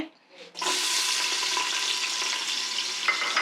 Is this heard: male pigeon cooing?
no